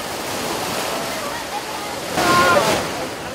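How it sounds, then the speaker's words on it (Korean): Ocean waves at a beach during a rescue scene, a steady broadband surf roar that swells briefly toward the end, continuous and fairly loud with wind on the microphone. "구조대원이 오기 전까지 아이가 파도에 밀려 나가지 않도록 나라가 곁을 지킵니다"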